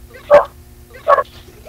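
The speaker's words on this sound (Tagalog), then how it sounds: "Aso ng kapitbahay." Two loud, separate dog barks close by, spaced about a second apart, with a faint steady hum behind them.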